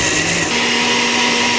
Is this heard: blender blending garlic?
yes